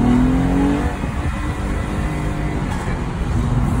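Lexus IS 250 engine with its exhaust valve open, a loud close rumble that revs briefly at the start, then holds a steady throaty drone.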